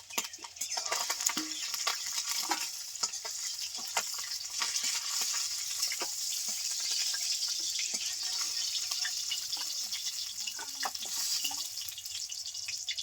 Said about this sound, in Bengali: বাদ বাকি মাছগুলো ভেজে নিচ্ছি